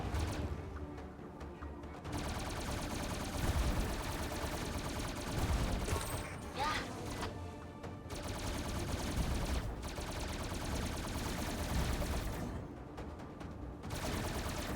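Sustained video game gunfire in the aerial shooter Kamikaze Lassplanes: dense, loud, continuous bursts of shots and crashes that run for the whole stretch with only brief dips.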